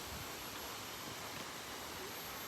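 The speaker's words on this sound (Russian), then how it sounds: "И там водопад шумит." A waterfall in Bali roars as a steady, quiet wash of broadband noise, constant and unbroken throughout, with no voices.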